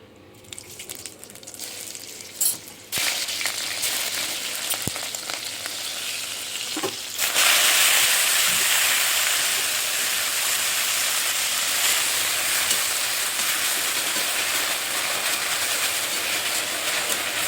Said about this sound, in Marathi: भाजी व्यवस्थित तेलामध्ये आधी त्याची फ्राय करून घ्यायची व्यवस्थित